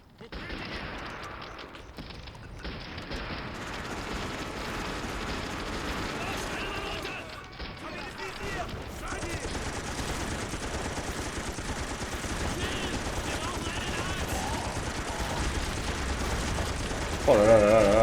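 Dense, unbroken gunfire from the World War II strategy game Sudden Strike 2: overlapping machine-gun bursts and rifle shots crackle steadily for the whole stretch, with heavier blasts and battle noise that grow louder toward the end.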